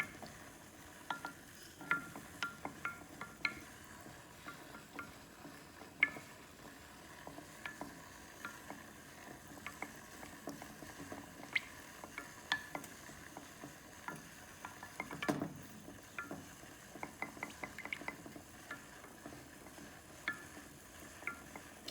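Salve oils and good-sized chunks of wax being stirred in a pot, a quiet continuous faint sizzle dotted with frequent light ticks and scrapes of the utensil against the pot, no voices.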